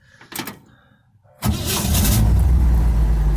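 A 1956 Chevy engine cranks and catches with a sudden roar, then settles into a steady, loud idle after a few light mechanical clicks.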